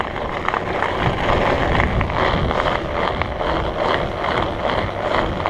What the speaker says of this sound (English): I'm running studded tires.